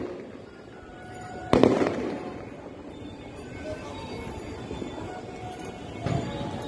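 Firecrackers bursting at the Tarakeswar temple festival, one sharp loud crack followed later by a fainter burst, set against a busy outdoor crowd murmur with some distant rumble.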